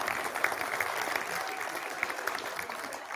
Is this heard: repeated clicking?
no